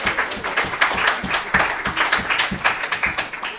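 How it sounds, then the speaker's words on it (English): A small audience claps for a boys soccer team captain and coach, with close, fairly loud, rhythmic hand claps that continue steadily. "Please give Connor and Coach a round of applause"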